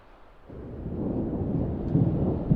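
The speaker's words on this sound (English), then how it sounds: "Oh, by the way, it's raining again." Rain and a rolling rumble of thunder in The Sims 4 video game swell from quiet to a steady, moderately loud roar, with no talk.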